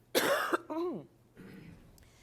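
One harsh, close cough at a board of education meeting, followed by a short voiced throat sound and a softer rasp. Brief and abrupt, with no words.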